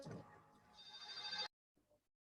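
A telephone rings during an online lecture: a faint, continuous electronic ringing that builds briefly and then cuts off abruptly, followed by a brief soft sound.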